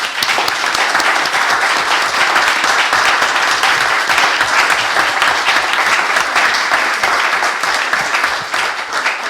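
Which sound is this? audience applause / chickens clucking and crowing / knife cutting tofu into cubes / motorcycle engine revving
audience applause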